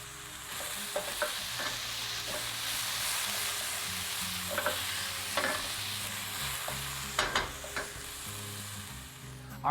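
An onion and chili mixture with salt sizzles softly in a pan, with a steady frying hiss and repeated scraping stirs from a utensil at close range.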